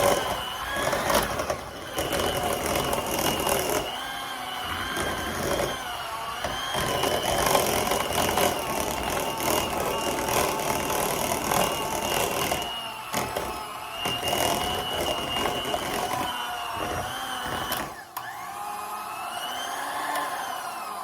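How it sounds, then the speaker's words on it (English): An electric mixer whirs steadily while blending a classic 1960s Braunschweiger spread, a loud continuous motor drone with churning, grinding texture and a few short dips before it cuts off near the end. "So let's go ahead and mix it all up."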